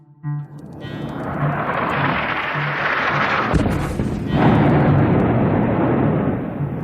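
Bombing strikes in Yemen captured in news footage: a loud, sustained deep rumble with a sharp onset, swelling and rolling on for several seconds with a second surge midway, no voices.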